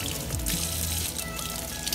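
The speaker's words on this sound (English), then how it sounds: "Turn on the water." Tap water runs steadily into a sink while a blue crab is rinsed and its guts cleaned out, a continuous close splashing stream with no talking.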